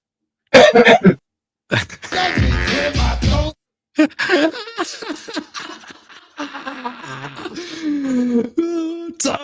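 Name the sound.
throat clearing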